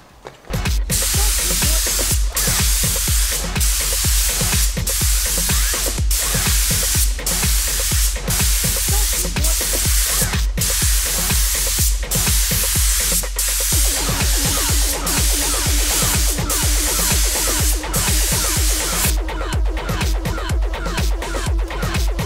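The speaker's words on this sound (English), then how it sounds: "Okay, so I sprayed my gold base down." A paint spray gun lays gold base coat onto a motorcycle tank, a loud continuous hiss of air and atomised paint broken by rhythmic pulses as the trigger cycles, held close throughout.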